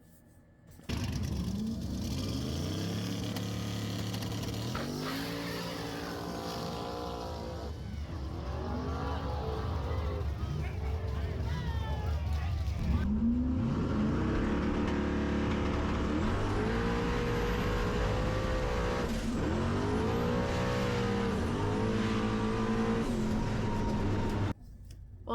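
Drag race cars launch and accelerate hard at a small tire race event, engines roaring loudly through repeated rising revs and gear changes, continuous and close for most of the stretch.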